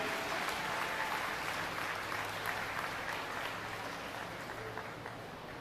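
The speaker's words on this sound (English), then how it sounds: "Let's give all three of these kids a round of applause" Steady applause from a crowd at a youth fair and livestock show, dense and continuous throughout, gradually softening slightly toward the end.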